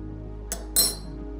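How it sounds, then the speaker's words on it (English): A spoon stirs an Americano in a cup, giving two bright, close clinks of metal against the vessel within about a second, over a quiet steady hum. "Last thing we're gonna do is give it a little stir and break any crema."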